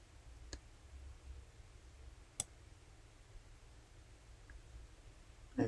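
Computer mouse clicking in sewing design software: a couple of sharp, isolated clicks spaced a few seconds apart over a quiet room hum, with a louder click at the very end.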